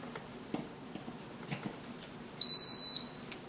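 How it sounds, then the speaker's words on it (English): Living Basix LB200 oil-free fryer sounding its power-on chime, a single clear electronic beep lasting about half a second, close and fairly loud over faint room noise and light handling taps. "And you will hear a chime."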